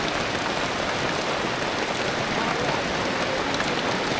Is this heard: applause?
no